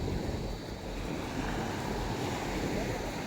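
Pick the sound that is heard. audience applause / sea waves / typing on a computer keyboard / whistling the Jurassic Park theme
sea waves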